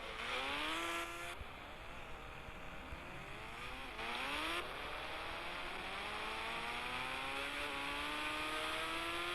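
A motorcycle engine revs repeatedly in the Indian Bike Driving 3D video game, its pitch climbing through several gear shifts, each climb followed by a drop, loud and continuous with no voices.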